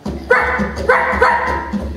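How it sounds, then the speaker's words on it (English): Comedy dog bark sound effect in a radio-style jungle adventure spoof, three loud, clear barks in a row with brief whimpering yips between them, close and prominent over a faint low backing. "Soaps the Wonder Dog sounds worried"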